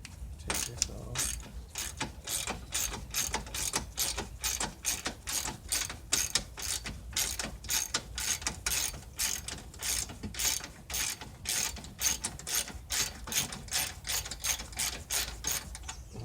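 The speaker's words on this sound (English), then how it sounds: "I know y'all don't want to just see me unbolt some bolts" A hand ratchet clicks fast and steadily while unbolting bolts on the condenser of a Mercedes C230/C240/C320, a long run of close, crisp, evenly spaced clicks with no talking.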